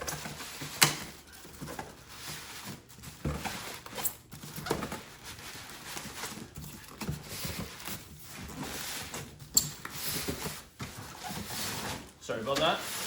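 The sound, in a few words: Canon printer being pulled out of its box, a bit stuck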